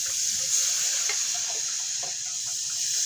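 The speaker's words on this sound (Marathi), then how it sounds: "शिजलेले हे चिकनचं पाणी सगळं ओतून घ्यायचं आहे कुकरमधलं" Cooked chicken stock poured from a pressure cooker into sizzling masala in a pan, a loud continuous hiss and frying crackle with faint stirring scrapes throughout.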